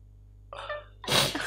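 A single human sneeze, preceded by a short sharp intake of breath and then a loud, explosive burst, close and isolated in a quiet room.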